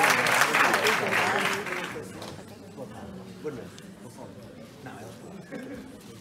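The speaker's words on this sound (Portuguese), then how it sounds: "Um grande aplauso." An audience at a medical school talent gala applauds, a burst of clapping that fades over a few seconds into quieter room noise and faint murmuring.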